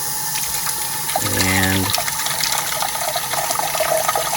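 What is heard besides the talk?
tap water running through a Dyson vacuum filter sock at a sink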